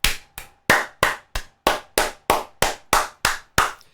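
Single person clapping about a dozen times at a steady, even rhythm, close and crisp, with no voices.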